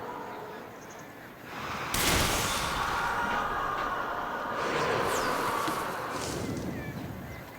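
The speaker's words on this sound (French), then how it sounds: "Elle fait des feux d'artifice." Fireworks in the theme-park game Planet Coaster 2 burst suddenly, then a dense crackling and popping barrage follows with whistling streaks, fairly loud and continuous over ambient park noise.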